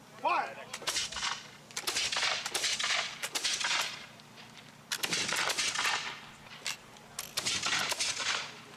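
Reenactors fire a musket volley in damp conditions at the Petticoat Bridge reenactment, a ragged string of loud, close cracks bunched into several clusters rather than one clean blast, with an echoing tail and crowd noise between.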